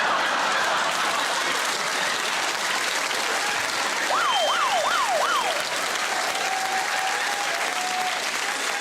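A comedy roast audience breaks into loud, sustained applause that fills the room evenly, while a brief warbling siren-like tone sounds through the middle of the clapping.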